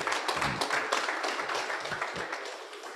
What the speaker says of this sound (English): A round of applause for our President once again.